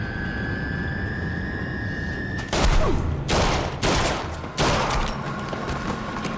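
Burst of gunfire from the TV show True Detective: several loud, close shots and short volleys in quick succession after a steady tonal hum, with no talk over them.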